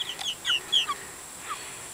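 Several short clucks from hens, a few quick calls close together then one more after a pause, fairly quiet against a still background.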